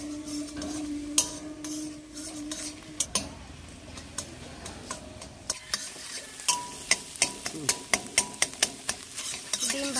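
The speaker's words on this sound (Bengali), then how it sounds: "ডিমটা ঝুরঝুরি করে ভেজে নেব।" Egg being scrambled and fried in a pan: a low sizzle under a long run of quick, rhythmic spatula taps and scrapes that grow faster and more frequent toward the end.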